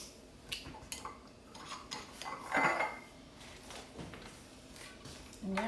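Vanilla mixed into powdered-sugar frosting for cinnamon rolls, with soft scraping and a few light clinks of a utensil against a bowl, close and fairly quiet.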